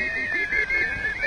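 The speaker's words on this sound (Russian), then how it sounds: "Это свистулька." Folk clay toy whistle blown in short warbling bursts, a bright piping tone that wavers and flutters, close and fairly loud.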